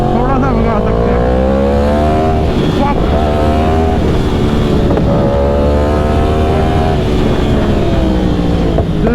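Yamaha R1 motorcycle, just fitted with a new fuel pump, revving hard with a loud, continuous engine roar whose pitch climbs and drops through several rising sweeps, with wind buffeting the microphone.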